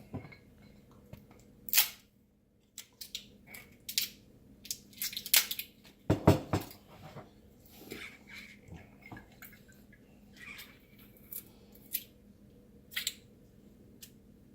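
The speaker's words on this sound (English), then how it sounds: "Get the stupid plastic off." Stiff plastic packaging is torn and peeled off during food prep for sugba kilaw, giving scattered crinkling, snapping bursts up close with quiet pauses between, and no talking.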